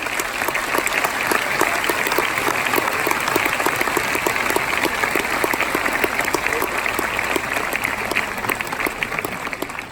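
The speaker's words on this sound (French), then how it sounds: "je voudrais qu'on applaudisse les choristes" A concert audience at a Fous Chantants choir event gives the choir singers loud, continuous applause, a thick wash of many hands clapping steadily throughout with no voices on top.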